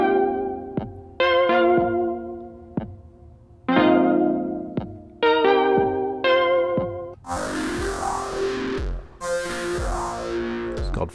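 Synth notes run through the Empress ZOIA "Clown Shoes" effect preset, heard as short separate tones with long decays, then a denser, washy, swirling passage, all without speech.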